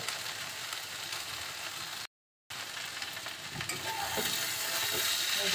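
Okra bhaji sizzles steadily in a pan while a spoon stirs and scrapes through it, close and continuous, with a brief cut of silence partway through. There is no talking.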